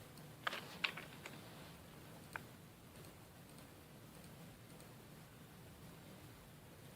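A computer keyboard is typed on while an online admission form is filled in, giving a few faint, sparse clicks early on over a quiet room hiss.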